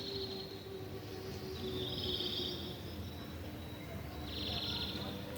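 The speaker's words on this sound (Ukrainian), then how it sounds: "Зараз ранок і так співають пташки." Several birds sing and chirp in bursts in the morning over a low, steady background rumble, fairly distant and soft.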